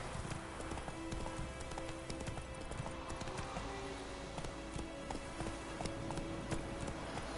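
Roach, the horse in The Witcher III, gallops in a quick, even beat of hoofbeats, fairly faint under a steady wash of game background sound.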